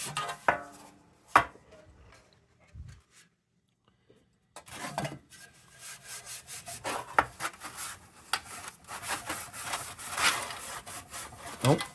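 Abrasive Scotch-Brite pad scrubbing a vintage Lisk metal lunchbox pail, a sequence of close, rough rubbing strokes with scattered sharp scrapes, a brief quiet pause early on, then dense continuous scouring.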